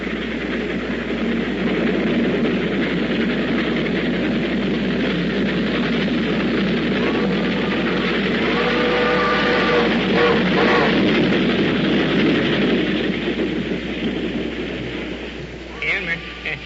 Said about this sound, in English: You're going to hear your train come through this cut.